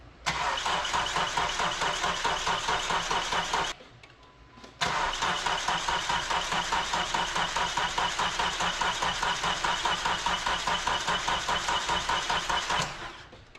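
A first-generation Dodge Neon engine, left sitting in a garage for 15 years, cranks over on the starter in a loud rhythmic churning. It pauses briefly, then cranks again for a long stretch without catching.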